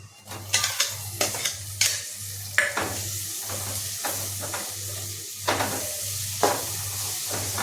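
Tomatoes stirred into sizzling masala in a pan, with a steady fry hiss under repeated scraping strokes of a spoon against the pan and a constant low hum beneath.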